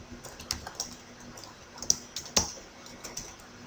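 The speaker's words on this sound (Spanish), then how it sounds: "si hacemos clic en la tecla Enter" Keys clack on a computer keyboard while text is typed in WordPad, a series of soft, close taps with a few sharper, louder strikes like the Enter key, spaced irregularly across a few seconds with no talking.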